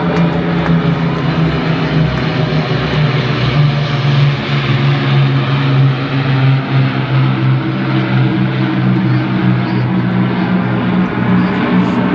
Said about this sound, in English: the Battle of Britain Memorial Flight, final pass